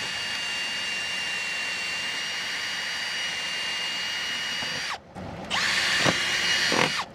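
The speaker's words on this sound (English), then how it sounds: "I marked these holes, so I'm ready to drill." A power drill whines at a steady high pitch as it bores mounting holes for a weather station installation, then stops, and short second and third bursts follow with the motor spinning up and down.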